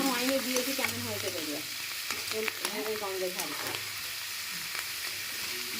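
Onion, ginger, garlic and tomato hiss and sizzle steadily in a hot pan, a dense close frying crackle with occasional stirring scrapes and a faint voice briefly in the background.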